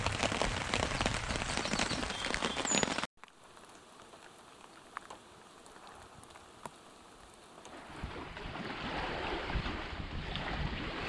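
Heavy storm rain heard from inside a bug shelter in Algonquin Park pours steadily, then cuts off abruptly to a quieter patter with scattered drops, before a broad rushing downpour slowly builds again.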